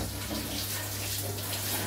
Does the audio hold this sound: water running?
yes